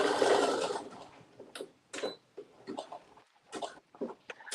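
A sewing machine stitching a stretched waistband, a whirring run at first followed by a string of short start-stop bursts of stitching, close and moderately loud, without talk.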